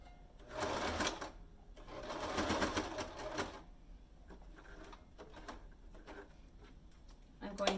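A sewing machine runs a straight stitch in bursts, two longer stretches of steady whirring followed by shorter stop-start runs, close and fairly loud, sewing a nursing hat.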